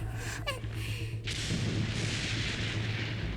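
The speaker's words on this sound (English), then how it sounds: "There's the sound of electro zapping in the air." Electro energy crackling and zapping through the air in the video game Genshin Impact, a sharp electric burst followed by a sustained loud hissing, buzzing roar over a low hum, with no talk.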